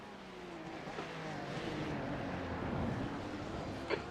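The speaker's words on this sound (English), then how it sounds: "There's a group of faster cars behind." In the iRacing sim at Sebring, a pack of faster cars in an IMSA endurance race closes in on a Ferrari 296 GT3, their engines forming a continuous rising roar with faint tire noise as they pass.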